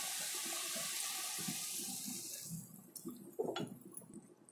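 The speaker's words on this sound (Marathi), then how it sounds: "आता याच्यामध्ये आहे ना मला पाहिजे तेवढं पाणी ओतणार आहे." Water pours from a vessel into a cooking pot for a vegetable curry. A steady splashing rush tapers off, followed by a brief clatter and a few quieter splashes.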